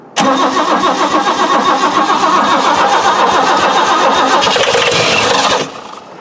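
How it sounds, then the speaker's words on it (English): A 1973 Mk1 Ford Capri engine cranks on a cold start, steady rapid rhythmic chugging from the starter, loud and close, for several seconds before cutting off abruptly. "Just keep cranking it, Les."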